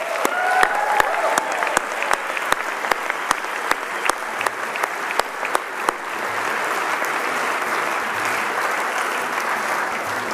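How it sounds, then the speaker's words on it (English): An audience at the Silicon Prairie Awards ceremony claps. It opens with sharp, distinct individual claps and then swells into a continuous, even wash of applause that holds to the end. "I think we should give ourselves another round of applause"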